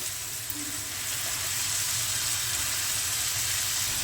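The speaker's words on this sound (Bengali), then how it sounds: "শুধু এবারে মশলাটা আমার একটু কষুক" Masala spice paste cooking in a pan for a village-style drumstick curry, a steady, close sizzle and crackle of frying that holds evenly throughout with no voices.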